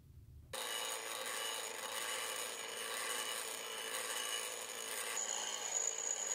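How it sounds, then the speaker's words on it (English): A bench grinder shapes the facets of a fly cutter tool bit, with steady, loud abrasive grinding that runs continuously after a short quiet start. "I'm grinding all of the facets that I'm going to need in there"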